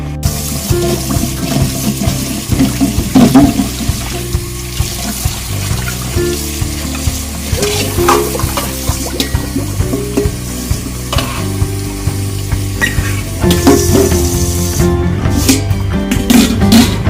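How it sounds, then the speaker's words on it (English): Warm tap water runs into a glass bowl as it is washed in a home kitchen during bread making, a splashing, hissing flow with clinks and handling noises. "So I'll wash this with warm water."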